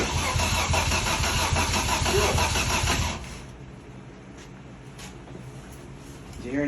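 Audi engine cranking on the starter without catching, a loud rhythmic churning for about three seconds, then it cuts off to quiet background noise, heard up close.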